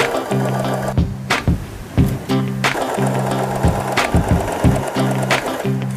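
A Janome 3016 sewing machine stitches along a zipper in loud, steady bursts of mechanical whirring, stopping and restarting several times with sharp clacks between runs.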